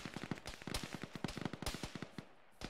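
Rapid broadband gunfire cracks in the ShackTac military sim game, a dense run of close shots in an irregular rhythm lasting nearly three seconds, with no talk over it.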